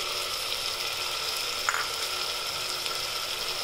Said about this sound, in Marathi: हे टोमॅटो घेतले, 2 मिनिटं चांगलं परतून घ्यायचं